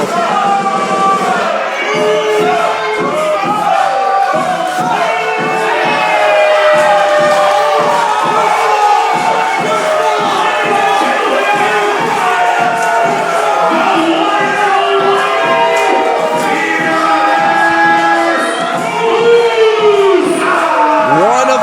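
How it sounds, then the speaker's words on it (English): Loud wrestling crowd at District Atlanta cheering a wrestler's entrance, with sustained roaring and shouting, rhythmic chanting pulses throughout, and a commentator talking over the noise. "listen to the reception from this great crowd here at District Atlanta"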